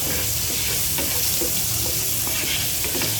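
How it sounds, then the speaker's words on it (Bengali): Shrimp frying in a pan with a little turmeric, a dense, continuous close sizzle with faint stirring throughout. "ভালো করে ভেজে নেবো যাতে চিংড়ি মাছের গন্ধটা না থাকে।"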